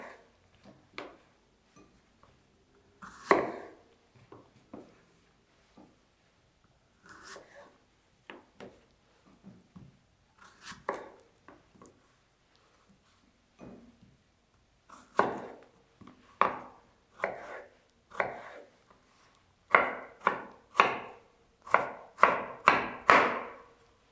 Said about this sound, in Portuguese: Eu vou cortar esse morango.